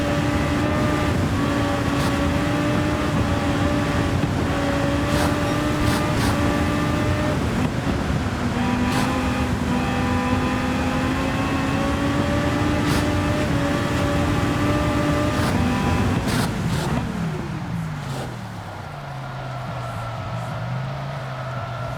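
A Chevrolet Tomahawk in Gran Turismo 7 holds a steady, loud engine drone through a turn, its pitch shifting slightly before dropping and easing off near the end.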